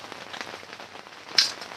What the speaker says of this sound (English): And we got rain.